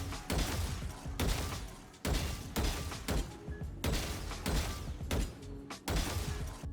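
Gunfire in the Valorant video game while the player strafes between shots comes as a steady series of loud, close bursts, each about a second long and separated by short breaks, with no voices.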